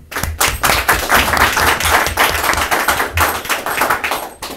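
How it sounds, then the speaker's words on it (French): A studio audience at a live show claps steadily for an arriving guest, with dense, continuous applause filling the room for several seconds at a close, even level. "sur vos applaudissements."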